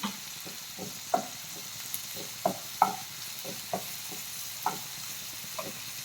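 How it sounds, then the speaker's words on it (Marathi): Green chilies dropped into a hot pan for a matar paneer masala, giving a soft sizzle broken by several sharp stirring clicks of a spoon against the pan, with no talking. "हिरवी मिरची टाकायची, थोडीशी टाकायची."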